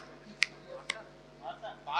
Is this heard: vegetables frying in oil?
no